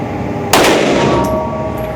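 A single sharp, loud gunshot rings out from a Ruger RXM pistol firing a civil defense round at a range, followed by a short, decaying ring.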